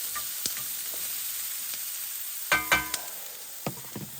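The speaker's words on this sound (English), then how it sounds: "as soon as that onion hits the pan, oh, it smells so good" Onion hitting a hot frying pan at an outdoor winter campsite sizzles faintly and steadily, broken by a few sharp pops and spattering crackles in the second half.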